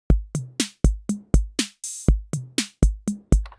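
A modern analog-modeled Roland TR-606 drum machine pattern of punchy kicks, snappy snares and hi-hats in a steady, quick rhythm, dry and upfront with no voices.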